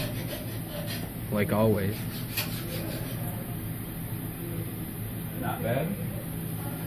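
A HAAS V1 CNC mill cuts pockets with a continuous rasping, scraping machining noise and a high whine, close by, while people talk briefly over it.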